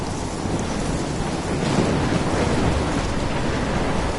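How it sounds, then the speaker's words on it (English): Heavy rain pours steadily in a stormy scene from the Life is Strange video game, a dense, loud, continuous roar of downpour with rumbling thunder swelling underneath, no voices present. "I'm trapped in a storm?"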